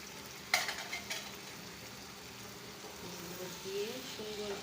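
Beef tripe frying with spices in a pan, a faint, steady sizzle at a distance, opened by a sharp utensil clatter, with a low hum underneath.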